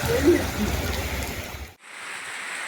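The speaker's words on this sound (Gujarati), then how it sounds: "ગામડાઓમાં પવન સાથે વરસાદ વરસ્યો" Steady hiss of rain falling with wind in a village in Gujarat's Bhuj area, a dense broadband wash that cuts out abruptly midway, then continues as a thinner, quieter hiss.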